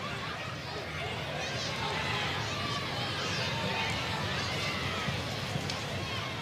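Stadium crowd at a 2024 ACC women's college soccer match between Wake Forest and SMU, a steady broad murmur and cheering wash from the packed stands, continuous and moderately distant, with a commentator talking over it.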